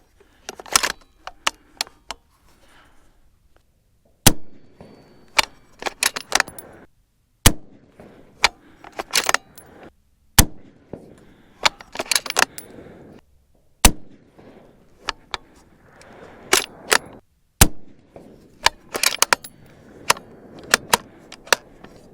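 A warm-barreled 6.5 Creedmoor rifle shooting 130-grain ELD-M handloads fires five loud, sharp shots spaced a few seconds apart, with softer clicks and handling noises from cycling the action in between.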